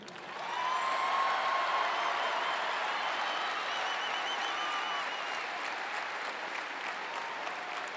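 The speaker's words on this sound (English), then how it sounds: "clap for him again." Sustained audience applause at a Marquette men's basketball senior ceremony in 2012, a dense, steady wash of clapping that swells in quickly and holds loud for the full stretch, with a few faint voices and whistles mixed in.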